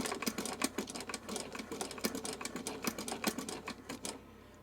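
A sewing machine runs and stitches in a rapid, close, mechanical clatter of regular needle strokes that stops just before the end.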